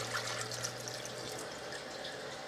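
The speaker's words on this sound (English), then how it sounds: "I'm going to use water, and I'm going to fill this just to the top of the potatoes." Water runs into a crock pot over potatoes, a faint, steady pouring wash with a low hum beneath and no talking.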